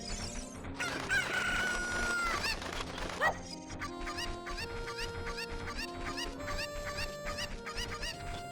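A Cucco chicken from The Legend of Zelda: Ocarina of Time lets out a loud rooster crow, followed by a string of short clucks over looping background music.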